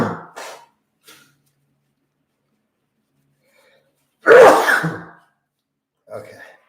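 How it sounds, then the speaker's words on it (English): A short breath, then a single loud sneeze close by from someone with a cold, followed by quiet and a faint exhale. "About to sneeze here, guys."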